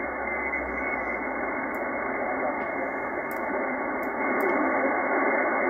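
Steady hiss of receiver noise from a FlexRadio SmartSDR set at the AGC knee point, a broad, constant rush with faint clicks, loud and alone.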